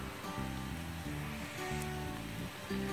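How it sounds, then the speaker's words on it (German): Potatoes and cauliflower seasoned with curry and nutmeg roast in a pan, giving a quiet, steady hiss of sizzling over a low, even hum, with no talking. "Und lasse das Ganze jetzt etwas anrösten."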